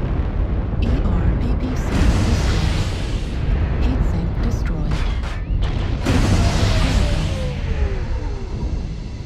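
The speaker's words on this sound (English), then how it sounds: "Artillery strike online." Artillery strike in a combat video game: a series of heavy booming blasts and crackling bursts, loud and continuous, layered over rumbling game noise with a sweeping whistle near the end.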